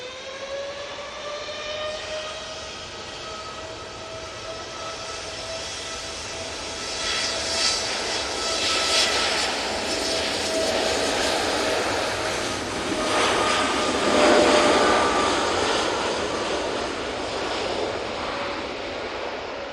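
A Boeing 787 Dreamliner jet at Manchester Airport gives a steady engine roar with a high whine that rises and swells through the middle, then holds loud and sustained, with no talking.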